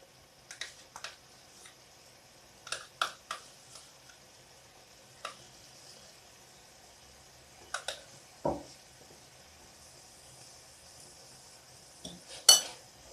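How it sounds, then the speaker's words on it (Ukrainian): A utensil stirs a thick cream cheese mixture in a pot, giving scattered soft scrapes and a few light clinks against the sides, spaced out with quiet pauses between strokes. "і знову все перемішую"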